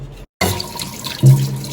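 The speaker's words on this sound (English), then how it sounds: "And I like to do it under running water." Running water from a kitchen tap pours steadily into a sink, close and fairly loud, with a brief cut-off before the flow resumes and swells.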